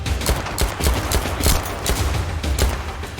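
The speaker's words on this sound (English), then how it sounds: "I like running these guns in semi-auto" Semi-automatic fire from an L85 rifle in the Zero Caliber shooter, a run of sharp, evenly spaced single reports over a steady low rumble, loud and close with no talk.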